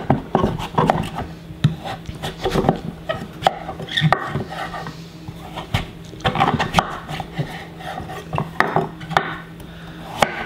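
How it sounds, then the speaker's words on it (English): A knife slices a butternut squash into strips on a cutting board, giving a run of uneven knocks and scrapes at close range with no talk. "Okay, so let's cut this into strips."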